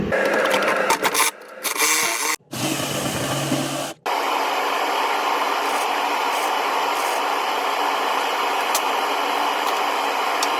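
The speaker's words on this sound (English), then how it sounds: "Got that little piece welded in." A small steel piece is welded near the rocker on a Land Cruiser BJ60/FJ60 body, loud crackling bursts broken by short pauses in the first seconds, then a steady even hiss.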